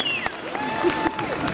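An audience claps at a Hype Dance Academy dance show at Sheffield Fright Night 2012: steady, dense applause over a crowd, with gliding tones of music or voices woven through it.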